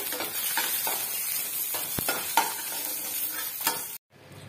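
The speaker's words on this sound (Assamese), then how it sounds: "মোৰ মাছ ভাজি হৈ গ'ল।" Fish frying in hot oil in a pan gives a steady, dense sizzle with a few sharp utensil knocks, then cuts off abruptly near the end.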